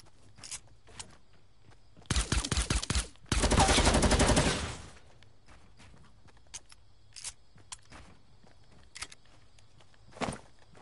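Video game gunfire blasting through building walls: two sharp rapid bursts of automatic fire, one short and one sustained, loud and close, with scattered single shots and faint footsteps around them.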